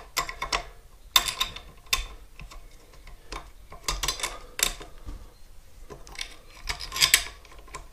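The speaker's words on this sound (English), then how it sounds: "Put your screws in." Screws are fitted back into a foldable scooter, with a string of close, quiet metallic clicks, rasps and ratcheting ticks in irregular bursts.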